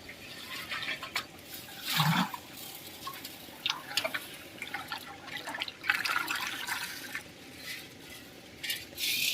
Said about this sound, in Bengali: জলটা খুলে দেওয়া হলো এই ডিমটা ছাড়া হচ্ছে